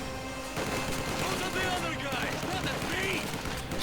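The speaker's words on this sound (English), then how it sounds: "Lots of machine gun fire." Machine gun fire in the real-time strategy game Company of Heroes 2, a dense, continuous battle din of gunfire running under a commentator's voice throughout.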